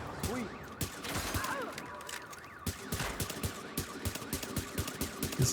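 Sniper rifle shots crack in a video game firefight, sharp repeated reports mixed with other bursts of gunfire and busy battle noise, while a voice talks over the action.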